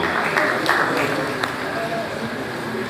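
Sustained applause from a scientific conference audience as a professor walks to the high table, an even wash of clapping with a few sharper nearby claps and faint talk beneath.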